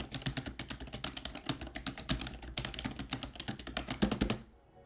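Rapid, steady typing on a fully rubber dome computer keyboard with a soft, mushy feel, close and clear, a continuous run of dull keystrokes that stops abruptly near the end.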